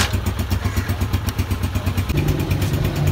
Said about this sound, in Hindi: मोटरसाइकिल बिल्कुल तैयार हो चुका है। ये स्टार्ट कर दिया